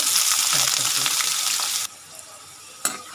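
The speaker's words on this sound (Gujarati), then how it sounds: "આ ટીંડોરાને અંદર એ લેવાનું છે હવે ટીંડોરાને ફ્રાય કરી દેવાના" Ivy gourd (tindora) frying in hot oil for a Gujarati tindora-potato dish, a loud, dense sizzle that cuts off abruptly partway, leaving quieter background with a brief clatter near the end.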